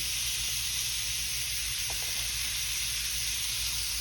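Meat sizzles loudly on a hot grill, good side down and seasoned with salt and pepper, a steady close-up hiss and crackle that runs unbroken throughout with a few faint pops and no talking.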